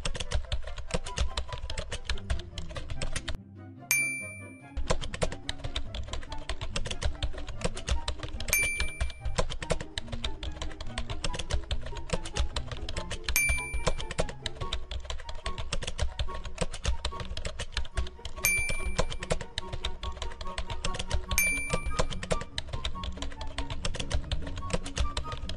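Computer keyboard keys tapped rapidly and steadily while a promo code is entered in a game, close and fairly quiet, over a constant background of game music with occasional bright chimes.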